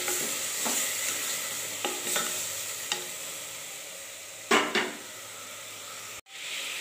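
Chopped tomatoes sautéing in a pan for vegetable biryani, a steady soft sizzle with occasional stirring scrapes and clinks, fairly quiet and close, ending abruptly.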